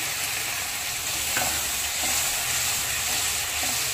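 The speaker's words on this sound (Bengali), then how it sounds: "মশলাটাকে এবার সুন্দর মতো কষে নেব" Spice paste fries in a pan for a pumpkin, potato and prawn curry, with a constant close sizzle and a few soft scraping stirs underneath, with no talking.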